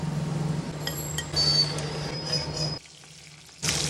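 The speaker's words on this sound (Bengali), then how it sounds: "এবার তেল গরম হয়ে গেলে আলুগুলো এর মধ্যে দিয়ে একটু ভাজা ভাজা করে নিয়েছিলাম।" Halved potatoes fry in hot oil in a wok with a steady sizzle, under a low hum and some light clinks, then a brief drop to near silence before the frying noise returns.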